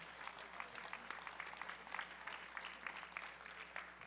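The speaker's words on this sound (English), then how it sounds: "Please give them a round of applause." Soft, distant applause from the crowd at a USA Powerlifting competition, continuous scattered clapping with a low hum underneath.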